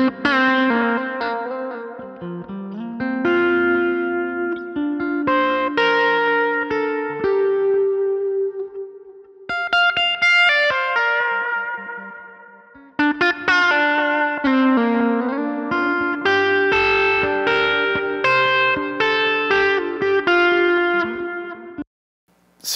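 Electric guitar lead played through a Line 6 Helix preset, a melodic solo line with effects and reverb, sustained bends and phrases running continuously with a brief dropout near the end.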